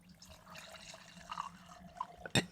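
Liquor poured over an ice cube into a glass: a faint, brief trickle and splash with a few small clinks near the end, in a quiet room.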